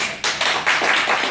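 Audience applause at a press conference, a brief burst of many hands clapping together, dense and fairly loud, lasting just over a second.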